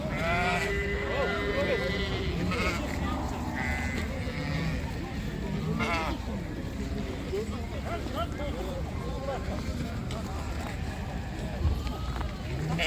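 Ewes and lambs call out at an outdoor livestock market in Taraz, several distinct bleats early on and more spread through the middle, mixed with busy crowd noise and people talking.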